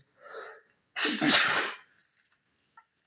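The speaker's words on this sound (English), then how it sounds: "Maybe it's just these sentences that are making me sneeze" A single loud, close sneeze, preceded by a short sharp intake of breath, then quiet with a couple of faint clicks.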